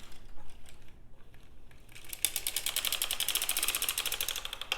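A hand-cranked sock knitting machine knitting a toe-up sock, with a dense, rapid ratcheting clatter of needles and gears that starts after a quieter moment and runs steadily, close and fairly loud.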